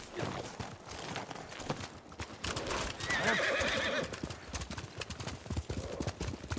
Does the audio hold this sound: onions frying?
no